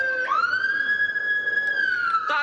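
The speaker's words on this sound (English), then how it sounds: "No, it's the ambulance." An ambulance siren wails loud and close in one long sustained tone, rising at the start and shifting pitch near the end as it passes.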